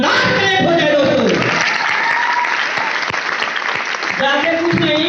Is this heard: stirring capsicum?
no